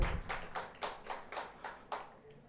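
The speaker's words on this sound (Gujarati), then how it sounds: "આપણે ત્રણેય વક્તાઓને તાળીથી અભિવાદન કરીશું" An audience at a literary lecture event claps for three speakers taking the stage, a soft, fairly distant patter of hands in rhythmic waves lasting a few seconds.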